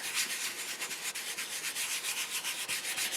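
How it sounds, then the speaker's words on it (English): Steady rubbing on sticky tape on a card, burnishing glitter into the adhesive, makes a continuous close scratchy friction with a quick repeated rhythm and no talking. "what I do is I burnish it or rub it in to the sticky tape"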